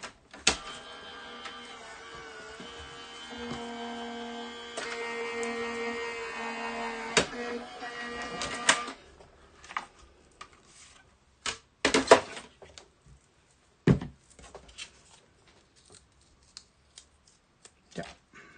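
Tabletop die-cutting machine feeding a small taped planner piece through its rollers, a steady mechanical whir with tonal hum for several seconds, then it stops, followed by scattered clicks and handling sounds.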